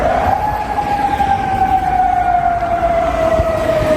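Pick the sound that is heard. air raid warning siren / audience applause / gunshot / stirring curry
air raid warning siren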